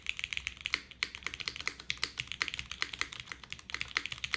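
Quiet, steady typing on a CLS-3 tenkeyless mechanical keyboard with lubed switches gives a dense run of soft, solid, close-up keystroke clacks with no talking.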